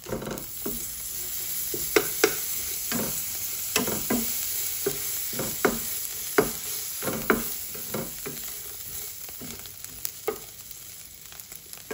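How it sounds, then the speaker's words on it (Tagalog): Anchovies (dilis) stir-fried in a pan give a close, continuous sizzle with frequent sharp scrapes and taps of a spatula at an irregular pace, with no talk. "So, nag-stir fry po tayo ng dilis."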